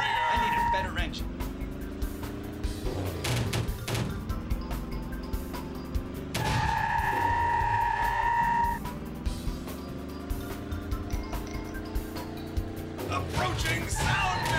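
Karts race in the M&M's Kart Racing video game. Engines rise in long, repeated upward pitch sweeps, and a brighter tone breaks in between them. Game voices talk over the racing.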